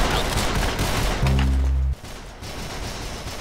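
Gunfire in the Roblox game Arsenal: a quick cluster of sharp shots followed by a brief heavy burst, moderately loud, with no voices.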